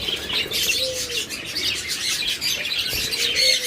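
Rainbow budgerigars kept for sale twitter and chirp in a steady, busy chorus, with bright overlapping calls close by and no voices.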